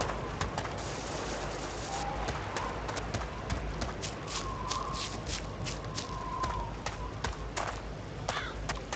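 Horse hooves clip-clopping in the survival video game DayZ, a steady run of quick hoof beats throughout, with faint bird cooing in the background.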